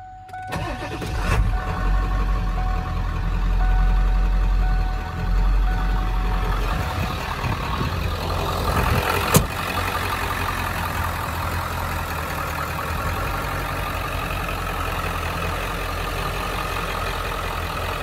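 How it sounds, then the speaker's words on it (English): A Ford F-350 pickup with a 7.3 Powerstroke diesel engine cranks and fires, then settles into a steady, loud idle that runs close and uninterrupted for the rest of the clip, with no talking. "We'll start it here for you just so you can hear it."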